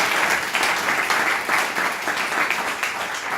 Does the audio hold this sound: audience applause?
yes